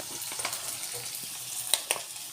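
Soy sauce hits a hot, sizzling pan: a steady crackling fry with a couple of sharper spits toward the end, close and fairly loud, with no voices.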